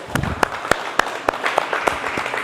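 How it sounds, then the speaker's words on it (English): Scattered, fairly sparse hand claps from a small audience at an indoor low back fitness workshop, distinct individual claps spaced across a few seconds over a light room murmur. "Okay, clap it up for them."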